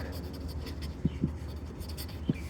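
A pen writes a maths solution set on paper at a class 9 lesson, making soft scratchy strokes with a few sharper taps, quiet and close with no speech.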